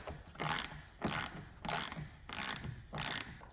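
A ratchet wrench with an 11 mm socket turns a stud for a Honda CR-V roof rack mount, giving five evenly spaced, close bursts of rapid clicking.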